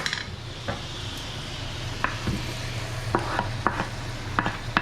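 Garlic cooking in a hot pan for picadillo, a steady low sizzle under scattered clinks and scrapes of a utensil against the pan, close by and moderately loud.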